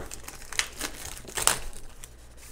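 Cellophane wrapping is cut off a product box for a ClonerAlliance ViewLite AV capture device, giving soft, close crinkling bursts with a couple of brief louder crackles, no talk.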